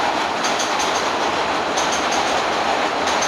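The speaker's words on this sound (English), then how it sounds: "there's a train going overhead" Elevated subway train rumbling past overhead in Williamsburg, Brooklyn, a loud, close, continuous roar of wheels on rails with rhythmic clickety-clack beats.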